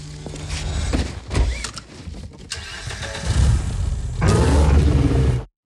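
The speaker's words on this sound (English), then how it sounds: "If you want those detailed, expressive car sounds to feel like music, you need to give them space" Layered car advertisement effects run back to back: an engine starting, whirring window and mechanism sounds, door clunks, whooshes and surging engine revs, all packed together with no gaps, building to a loud sustained roar before cutting off abruptly.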